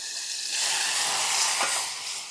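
Melted whipping cream poured into hot caramel sets off a loud, steady sizzling hiss that swells over a couple of seconds with faint stirring underneath, close and without talk.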